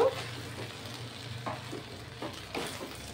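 A spoon stirs peas pulao in a pan over a soft background sizzle, producing several short scraping strokes at irregular intervals, close by but modest in volume.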